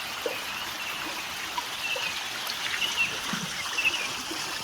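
A steady mountain stream trickles and gurgles in the background at a campsite near Curug Halimun, with faint birdsong chirping now and then over the flowing water.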